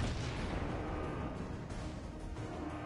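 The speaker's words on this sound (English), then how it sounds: "We're gonna fire one salvo there." A video-game battleship's main guns fire a salvo, a dense, sustained rumbling roar of heavy artillery that fills the whole moment without pause.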